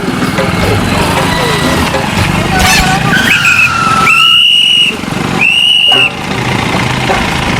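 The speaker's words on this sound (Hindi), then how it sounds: "वो बड़ा गाड़ी आ रहा है इधर" A large vehicle approaches on a road, its engine rumbling loudly throughout while two sharp high squeals, like brakes or horn, ring out in the second half, with voices mixed into the noise.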